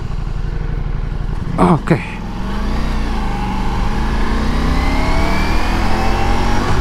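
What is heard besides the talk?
Ducati Multistrada V4 Pikes Peak motorcycle riding at night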